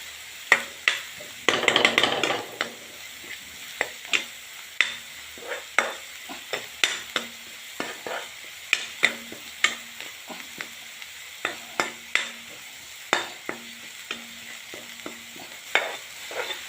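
Green garlic curry is mixed with spices in a hot pan over a low background sizzle, with a spatula giving repeated sharp taps and scrapes and a brief burst of louder frying early on.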